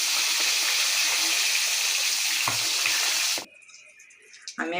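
Rohu fish pieces frying in hot oil in a pan, a steady loud sizzle that runs for about three seconds and then cuts off abruptly, leaving a quieter stretch with a few faint clinks.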